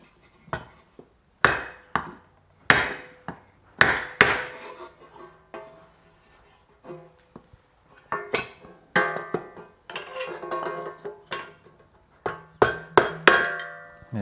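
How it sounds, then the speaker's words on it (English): A hammer smacks the head of a Briggs & Stratton overhead valve small engine repeatedly, sharp metallic clanks in irregular clusters with pauses between, close and fairly loud with no talking. "I'm just going to give this a smack."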